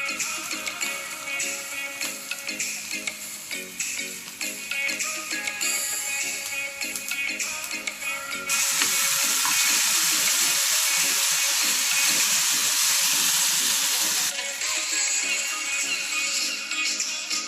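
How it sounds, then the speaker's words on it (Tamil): Spices tempered with boiled potatoes for a side dish to tomato rice give a steady broadband sizzle that grows noticeably louder for several seconds in the middle, then eases back. "உருளைக்கிழங்கு அவிந்து விட்டது, தாளித்து எடுத்தால் சரி"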